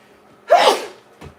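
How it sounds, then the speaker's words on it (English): A single loud sneeze, triggered by black pepper and lemon pepper seasoning while cooking a chicken pot pie, with a short sniff or breath right after. "I'm sneezing"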